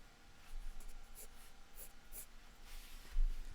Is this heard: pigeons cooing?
no